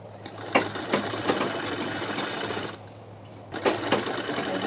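Close-up stitching of a zipper and cloth on a sewing machine for a travelling bag: sustained rapid mechanical whirring with rhythmic thumps, a short pause, then the motor starts up again.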